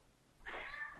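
A cat meows once, a single drawn-out call rising and then tailing off, close and clear against a quiet indoor room with no talking.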